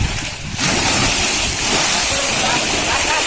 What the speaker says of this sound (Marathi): लाटा बघा तुम्ही पाहू शकता बघा लाटा अशा खवलेल्या